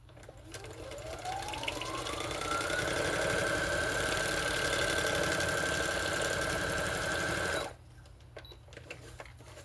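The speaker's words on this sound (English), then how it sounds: "I am going to run this to my sewing machine real quick, and I'm just going to stitch down both sides of it" A sewing machine runs a straight stitch, its motor whirring up to a steady high hum that holds for about seven seconds, close and loud, then stops abruptly.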